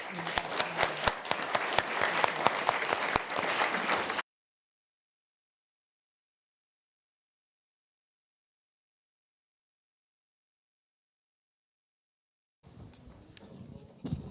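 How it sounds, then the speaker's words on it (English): A burst of loud applause at a lecture, with dense, rapid clapping for about four seconds, then silence, with faint crowd noise returning near the end. "We'll give you a final round of applause."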